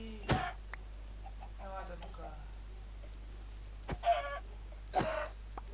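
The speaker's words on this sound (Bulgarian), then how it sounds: "Още кокошки, супер." Chickens in the video game Minecraft give a few short clucks, spaced out across the moment over a faint steady background hum.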